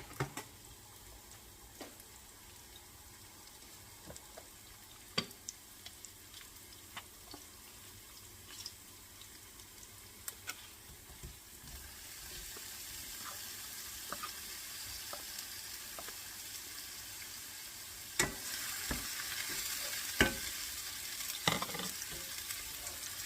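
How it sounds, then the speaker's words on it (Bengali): Small shrimp frying in a pan with salt and turmeric, a soft steady sizzle that swells louder in the second half, with scattered sharp ticks and spatters from close by. "চিংড়ি মাছটা ভাজা হয়ে গিয়েছে।"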